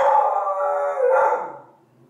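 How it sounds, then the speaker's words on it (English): A dog gives one loud, close, drawn-out bark that stretches into a howl-like cry and fades away over about two seconds. "My next favorite thing is the sound of my dog barking."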